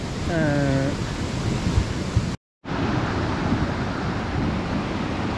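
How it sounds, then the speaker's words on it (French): A mountain torrent that has overflowed onto meadows gives off a loud, steady, broadband rush of water close by, broken only by a brief total dropout midway. "le torrent a un peu débordé sur les prés en amenant un peu tout sur son passage"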